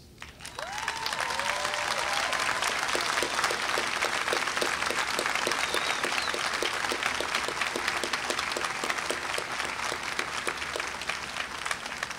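Sustained applause from a large crowd at a university graduation ceremony, loud and continuous throughout, with a brief cheer or whoop near the start.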